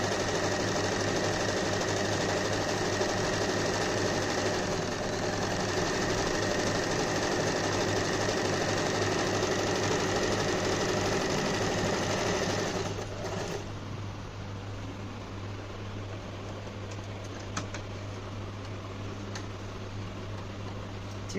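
A Usha Janome Allure DLX sewing machine runs steadily and loudly with a continuous mechanical whir and fine ticking, then eases to a lighter, quieter hum partway through, with a few sharp clicks near the end.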